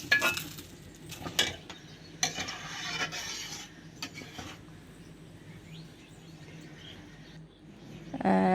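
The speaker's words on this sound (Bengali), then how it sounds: "একটি ফ্রাই প্যানে তেল ও পেঁয়াজ কুচি, রসুন কুচি দিয়ে লাল করে ভেজে ডালের মধ্যে দিয়ে নেড়ে চেড়ে উঠিয়ে ফেলব" Oil with chopped onion and garlic frying in a pan, stirred and scraped for lentil dal; intermittent clinks and scrapes over a soft steady sizzle, no talk.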